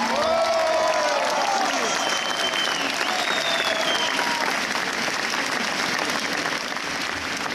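Sustained applause from an audience at a French gathering on penalising denial of the Armenian genocide, loud dense clapping with some cheering voices, continuing steadily and easing slightly toward the end.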